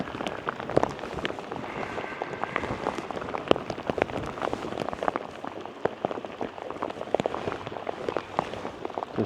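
Rain falling steadily during a storm at a lake in Vermont, dense crackling patter of drops on surfaces, close and continuous with no talking.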